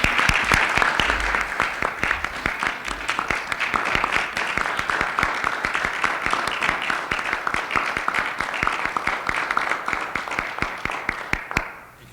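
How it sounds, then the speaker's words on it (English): Dense, steady applause fills a school committee meeting for about twelve seconds, a crowd of hands clapping closely without pause before cutting off abruptly at the end. "I'd like to ask for a round of applause and thanks to Bridget Boyd."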